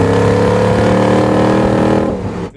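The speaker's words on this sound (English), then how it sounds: "It has a magnaflow stainless steel exhaust system that comes off of the headers into a 3-inch exhaust out by the rear axle" A 1972 Ford Bronco with a swapped 5.0 Coyote V8 runs through a Magnaflow stainless exhaust off the headers into 3-inch pipe, giving a loud, steady deep rumble held close up before easing off at the end.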